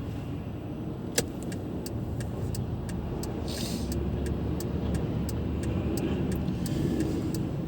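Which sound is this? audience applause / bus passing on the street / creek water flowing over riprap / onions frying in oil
bus passing on the street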